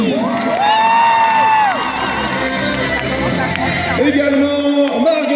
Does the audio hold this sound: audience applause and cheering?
yes